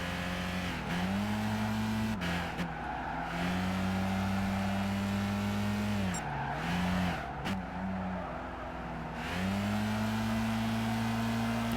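Race car in the Gran Turismo 5 video game spinning its front tires, a loud sustained engine drone with squealing wheelspin that dips and recovers several times, close and continuous without talk.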